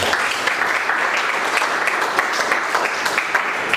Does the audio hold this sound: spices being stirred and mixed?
no